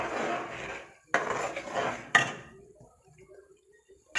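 A thickening semolina mixture being stirred in a pot, three close bursts of spoon scraping against metal followed by quieter faint clinks.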